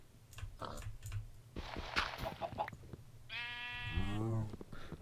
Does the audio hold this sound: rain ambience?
no